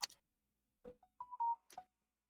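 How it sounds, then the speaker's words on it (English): A short burst of phone notification tones: a few quick electronic beeps and chirps at low volume, separated by brief silences, with no talking. "I like how my phone had to make a sound."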